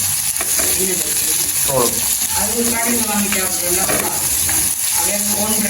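Onion frying in a pan and being stirred: a continuous close sizzle runs under several people chatting throughout.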